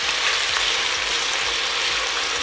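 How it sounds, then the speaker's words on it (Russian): Chopped onions fry in a pan as the base for a hare and vegetable soup, giving a loud, steady, even sizzle with no talking. "Быстренько обжарим, минуты две."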